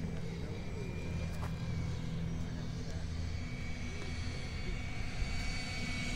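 A light aircraft on final approach with landing gear down at an airfield, its engine a steady drone held at a constant level throughout, with some faint wind in the background.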